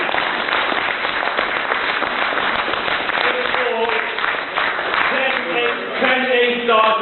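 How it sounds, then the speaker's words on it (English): An audience at an awards ceremony at the House of Parliament gives a round of applause, a dense burst of clapping that thins as a voice begins speaking over it. "You can do a round of applause."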